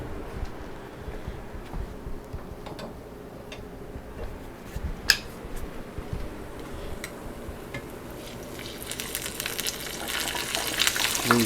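Funnel cake batter frying in a hot skillet gives a soft continuous sizzle with scattered pops and ticks, growing brighter and louder near the end, close and without talk.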